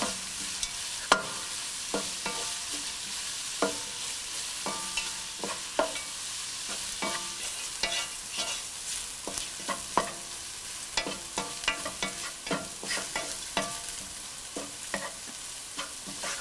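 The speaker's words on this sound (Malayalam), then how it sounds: "ഉള്ളി നന്നായിട്ട് വഴറ്റിയെടുക്കുക" Onions with salt sauté in a pan, a steady close sizzle broken by frequent scraping and clacking of a stirring spoon throughout, no voices.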